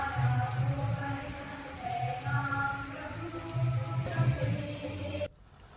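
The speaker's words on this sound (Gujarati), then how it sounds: "વેરાવળ, સૂત્રાપાડામાં ધીમી ધારે વરસાદ શરૂ થયો છે" Light rain falls in Veraval and Sutrapada, Gujarat, as a soft, steady patter of drops on surfaces, with faint tonal sounds layered over the wash of the rain.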